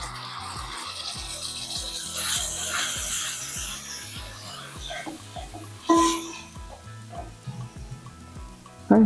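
Ground tomato paste added to hot oil for a Madras fish curry, crackling and sizzling up close with repeated spoon scrapes and stirring taps, plus a sharper clatter partway through.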